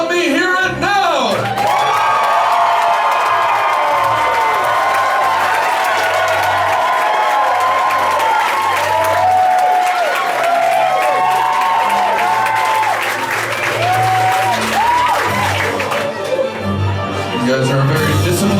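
A crowd at the Hideout cheers, whoops and applauds loudly and steadily for nearly the whole stretch at a Shame That Tune finale, with brief shouts rising above the din.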